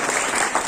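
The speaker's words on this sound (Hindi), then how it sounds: "जोरदार तालियों के साथ।" Loud audience applause welcoming a judge at a national Jawahar Navodaya Vidyalaya alumni meet in Delhi, a brief, steady burst of many hands clapping.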